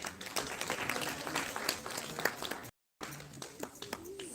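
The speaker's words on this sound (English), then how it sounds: "A big round of applause for sir" An audience at a live cultural event claps steadily in a broad burst of applause, which cuts off briefly and then resumes more thinly.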